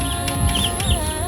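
Rhode Island chickens cluck steadily at close range, a busy flock sound with overlapping calls against a constant background hum.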